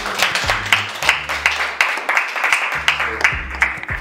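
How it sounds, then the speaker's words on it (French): Artisans in a conference hall audience clap together in a sustained, lively round of applause that is fairly close and unbroken, with no speech over it. "Est-ce que vous pouvez applaudir un peu pour qu'on sache que"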